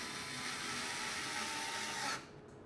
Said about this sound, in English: Now I can grab my power driver, and just by fantastic luck, actually, the 1/4 inch drive fits right on the head of this